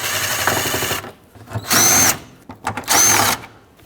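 Two loud bursts of a power drill-driver running bolts down into a 2007-2009 Saturn Aura front bumper cover, each lasting under a second, with a quieter stretch of rattling handling noise between and before them.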